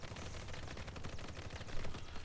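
Winter Soldier's suppressing gunfire in the Marvel Heroes video game, a dense, continuous rattle of rapid automatic shots with a steady loudness, and no voices in the clip.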